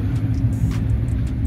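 A supercharged 6-liter sleeper car idles at a nighttime car meet. It gives a steady, loud low rumble with a faint high whine running over it.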